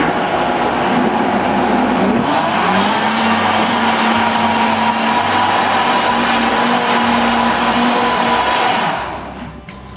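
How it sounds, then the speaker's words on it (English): Vitamix blender running on wet sweet potato muffin ingredients, a loud, steady motor whine with a shifting pitch early on, then holding level for nearly ten seconds before winding down at the end, close and with no talking. "I'm going to blend this"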